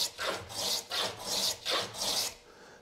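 A Stanley hand plane shaves a bevel along the edge of a small wooden drawer, held at a shearing angle, giving five rhythmic, raspy strokes at close range, each a short hiss of cutting wood with brief pauses between them.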